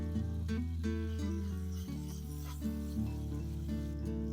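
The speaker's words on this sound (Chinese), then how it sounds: "我们再把腊肠倒进去翻炒" Chinese sausage stir-fried in a wok with garlic and onion makes a close, continuous sizzle, with spatula scrapes and tosses recurring every second or so.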